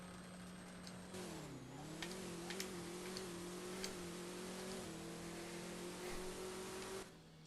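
A drag race car launches off the line in the video game Drag Racing No Limit 2, a low 5.6-second car. The engine climbs from idle into a loud sustained howl with a small dip just after launch, then settles and holds steady before cutting off.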